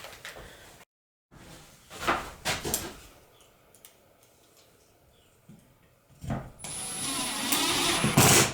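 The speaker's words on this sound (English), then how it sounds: "1-inch pocket hole screws and get this thing screwed in" Pocket hole screws are driven into wood with a power drill, heard as short whirring bursts and clunks with pauses between them, ending in a longer, louder run.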